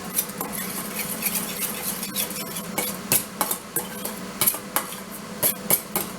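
Chicken marinade with sriracha being mixed by hand with a spoon in a bowl, no whisk, a run of close sharp clinks and scrapes against the dish, growing more rhythmic toward the end.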